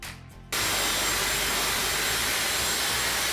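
Hair dryer switching on after a brief quiet moment, then blowing a steady, loud, broadband roar of air onto hair in a salon, close and continuous with no talk.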